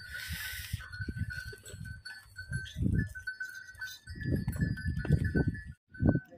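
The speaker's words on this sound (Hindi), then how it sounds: "आपको दिखा रहे हैं अभी सिरोही नस्ल की बकरियाँ" Sirohi breed goats in a forest setting bleat repeatedly, with a bell clanking and shuffling hooves around the herd, close and fairly loud, calls overlapping in bursts.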